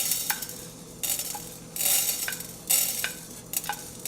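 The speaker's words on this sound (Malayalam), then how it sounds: "ആ പാനിലേക്ക് ആദ്യം കുറച്ച് കുരുമുളക് നമുക്ക് ചേർത്ത് കൊടുക്കാം" Black peppercorns dry-roasting in a pan give several short bursts of scraping, rattling stirs with quieter gaps between them; no talk.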